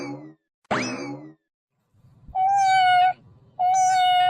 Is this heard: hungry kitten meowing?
yes